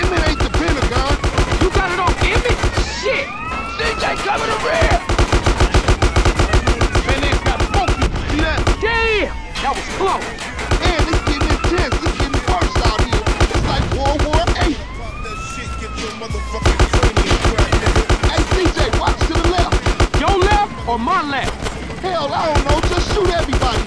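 Rapid gunfire from a GTA San Andreas mission rattles almost nonstop through the whole stretch, loud and dense, with sirens rising and falling and brief lulls between bursts.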